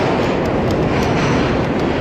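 An NYC subway R-32 train, Budd-built, rumbling past with a steady broadband roar of wheels and motors, loud and close throughout with no talking.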